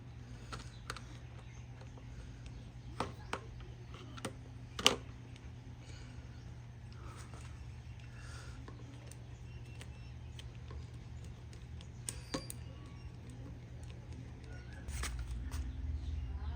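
An LG washing machine left unused for seven years, just switched on: a faint, steady low hum runs throughout with scattered soft clicks and ticks. No drum movement is evident, and the sound stays quiet and even.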